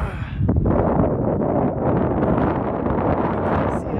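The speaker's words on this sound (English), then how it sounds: "Man, it is cold and windy." Cold night wind gusting on the Tahoe Rim Trail above Lake Tahoe, a loud, steady roar buffeting the microphone throughout with no break.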